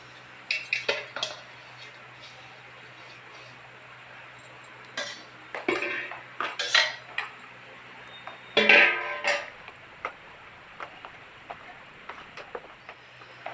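Ground coriander, fenugreek, cumin and mustard powders are stirred into raw mango pickle, a spoon clinking and scraping against the dish in uneven bursts, loudest in a cluster near the end, with quiet gaps between.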